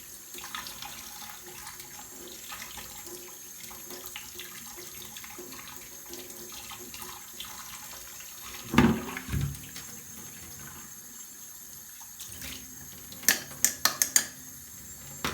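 Tap water running steadily over cake flour dough as the starch is rinsed out, a quiet continuous stream with a few brief clatters and splashes near the middle and end.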